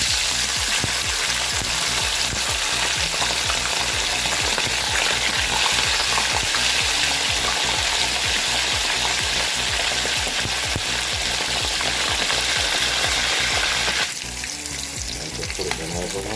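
Fish sizzles and crackles steadily in hot oil flavoured with garlic and onion rings, a loud, dense frying hiss with scattered pops that carries on throughout and drops a little near the end.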